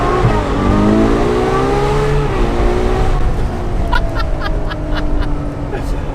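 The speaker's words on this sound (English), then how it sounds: "naturally aspirated V12s are basically the best engines in the world" A Ferrari 812 Superfast's naturally aspirated V12 revs high and then settles, loud and close, while people talk over it.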